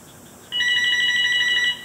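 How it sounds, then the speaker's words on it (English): A landline telephone in an art studio rings with a loud, steady electronic trill that starts abruptly and holds for over a second before cutting off. "Someone forgot to unplug the phone. We're going to listen to it ring until the machine picks it up."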